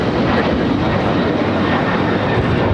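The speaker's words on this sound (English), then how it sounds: "This is Delta Airlines 615 taking off to Cancun on the 737-900ER" Delta Air Lines Boeing 737-900ER bound for Cancun taking off at LAX, a loud, steady broadband jet roar that holds constant throughout without a break.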